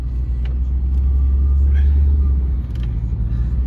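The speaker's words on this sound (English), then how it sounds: "Now let's take you on a short drive showing how the vehicle drives." A 2002 Chevy Camaro with its T-tops off cruises along, its engine a steady low rumble under wind and road noise throughout, with no clear gear changes.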